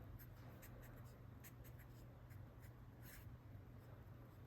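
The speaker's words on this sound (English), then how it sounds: "So when I go to write it" Pen or pencil writing on a chemistry worksheet, faint scratchy strokes in short bursts over a steady low hum, close and quiet with no talking.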